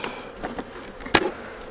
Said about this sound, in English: Now there's a lot of bees on the walls of this